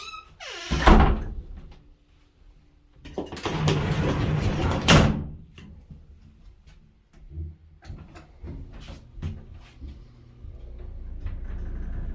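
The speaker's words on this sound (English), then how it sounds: "Close both doors." Two doors are closed in a Panama City Beach, Florida condo, giving a loud near thud, then a longer sliding rumble ending in a firm bang, followed by quieter knocks and footsteps.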